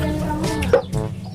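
A chicken clucks close by in short, throaty bursts, fairly loud over a busy outdoor backdrop.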